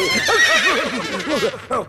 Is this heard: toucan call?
no